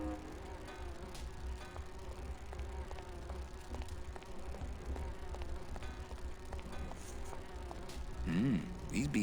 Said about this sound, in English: Oh, it's the bees.